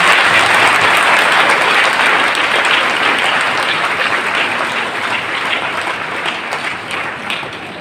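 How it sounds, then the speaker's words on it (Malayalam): A large audience at a diocesan gathering in Kottapuram, 2024, gives sustained, dense applause. It stays loud and even throughout and eases slightly toward the end, with no speech over it. "നമുക്കെല്ലാവർക്കും നല്ല കയ്യടികൾ കൊടുക്കാം."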